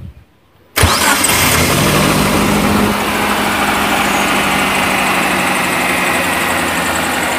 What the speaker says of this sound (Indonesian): Kita hidupkan dulu untuk mesinnya, kita panaskan sampai temperaturnya tercapai.